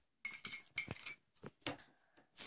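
Spoon stirring smoothie ingredients and cream in a bowl: quiet, irregular clinks and scrapes of cutlery against the dish in short bursts with pauses between them.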